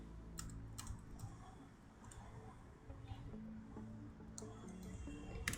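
Typing on a computer keyboard, with quick clicks and a few sharper key presses such as Enter, set close against a soft steady background hum.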